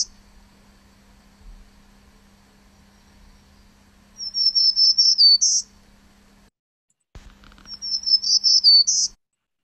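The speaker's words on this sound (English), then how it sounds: "So here's the black-throated green." Two buzzy, rising phrases of a black-throated green warbler song ring out clearly against near silence, each lasting about a second and separated by a pause, with a faint low hum beneath.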